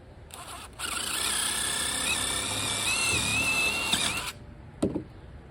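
A power drill whirs for about four seconds, its whine wavering as it pre-drills a hole in vinyl deck railing, then stops, followed by a couple of sharp clicks.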